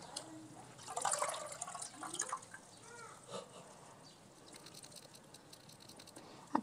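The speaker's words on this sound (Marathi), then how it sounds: "ही अशी चांगली पाण्यात घालून स्वच्छ अशी धुवून घ्यायची।" Ambadi leafy greens are washed by hand in water, giving soft splashing, dripping and patter, close and fairly quiet, with no talk over it.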